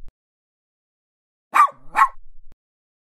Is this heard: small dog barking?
yes